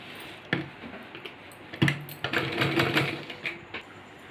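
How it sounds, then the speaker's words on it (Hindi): A sewing machine stitches a pant seam in short bursts of rapid clatter separated by knocks and brief pauses, close and moderately loud, with no talking. "इस तरह से सिलना है।"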